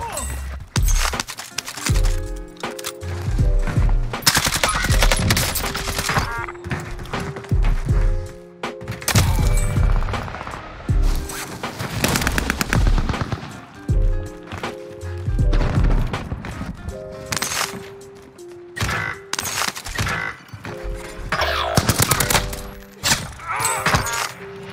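Groundloot gun firing in the Rebirth video game: loud, dense, repeated blasts and heavy thuds in rapid bursts throughout, layered over a tonal game soundtrack.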